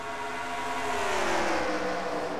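Race cars in a racing game accelerate together at a restart at Texas, a loud steady engine drone rising in pitch as they gather speed.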